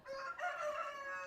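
A rooster on a working ranch crows one long, loud, sustained call close by, with no talking.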